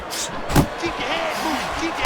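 Punches land in Fight Night Champion during a Jake LaMotta vs Ronald Wright middleweight bout at the MGM: two sharp, thudding impacts a moment apart, heard over steady commentary and crowd noise.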